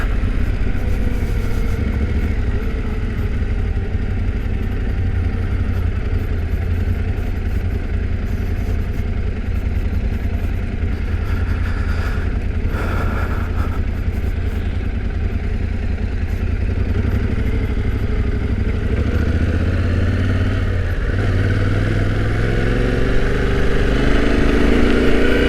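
A Yamaha Tenere T7 motorcycle engine drones steadily while riding, a continuous low rumble with wind roar, rising into a deeper revving surge near the end.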